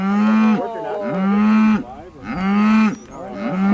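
Cattle in a cover-crop pasture moo loudly and repeatedly, four long drawn-out calls close to the listener with brief pauses between them, no talking.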